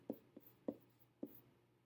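Pen or pencil strokes on paper while a function call for a recursive mist function is written out by hand, three short scratchy bursts with a fainter one between, close and quiet in an otherwise still room.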